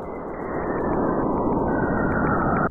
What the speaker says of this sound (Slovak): Mimozemský zvuk dvoch čiernych dier,